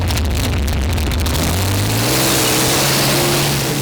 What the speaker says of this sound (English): That's a Rover Meteor tank engine that powers Ghost.